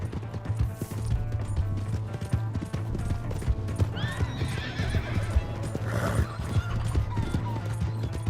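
A horse gallops in Red Dead Redemption 2, with rapid hoofbeats continuing throughout and a loud neigh rising midway over a low game engine hum.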